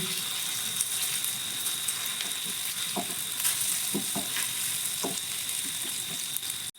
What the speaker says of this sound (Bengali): একটু লালচে করে ভাজা হয়ে গেছে আমি এবার এগুলোকে উল্টে দিচ্ছি